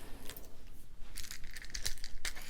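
Glass beads, some pearl-like, poured out for a bracelet stack, giving scattered bright clinks and rattles in several quick bursts, close and fairly quiet.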